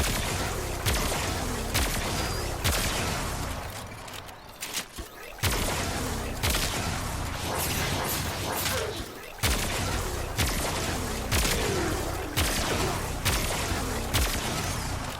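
Opticor Vandal rifle fired in Warframe, a run of sharp, heavy shots spaced about a second apart over dense game noise, with a brief quieter lull midway.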